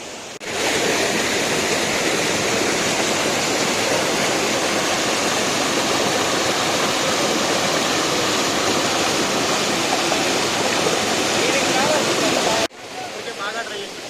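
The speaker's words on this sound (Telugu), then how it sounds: "అక్కడ కూడా ఒక వాటర్ ఫాల్ ఉంది చూడండి." Ramasari waterfall in the Lankamala forest of Kadapa district, Andhra Pradesh, pours into a deep valley with a loud, steady broadband roar, continuous for about twelve seconds before cutting to a quieter rush.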